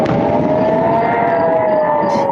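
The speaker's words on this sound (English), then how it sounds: "Hezbollah rocket barrages triggered sirens across northern Israel overnight" An air raid siren sounding across northern Israel during overnight rocket barrages: a loud, sustained wailing tone that sinks slowly in pitch, with a wash of background noise around it.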